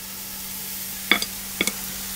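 Oatcake batter sizzling in a lightly greased frying pan on medium heat, a soft steady hiss with a few sharp crackles and pops, no talk.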